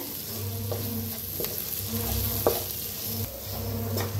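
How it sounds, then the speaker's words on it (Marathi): Masala spiced with green chilli sizzles steadily in a hot pan while a spoon stirs and scrapes through it in short, repeated strokes, close and fairly loud. "आता छान असं मिक्स करून घेऊया."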